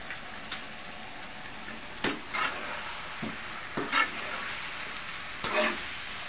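Chicken liver goes into a simmering pot of chicken tinola, with a quiet background hiss broken by several short scraping stirs and clinks spaced a second or so apart.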